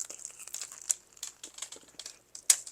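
Biting into a knockwurst sandwich on a garlic pretzel roll gives off close, crisp crunching and crinkling sounds in quick irregular bursts. A sharper crunch comes near the end.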